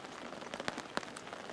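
Steady rain pattering on a Zempire Pronto 4 tent, with wind outside, a soft continuous wash broken by a few sharper drops.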